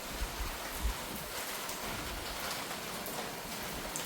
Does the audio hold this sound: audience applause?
no